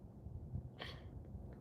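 A man with a cold gives a short nasal sniffle, a single quick snort-like intake of breath through the nose, faint over a low steady background hum.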